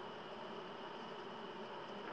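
Honey bees buzzing around an open hive during a hive inspection, a steady low-level hum that carries evenly through the whole short stretch, faint and without talking.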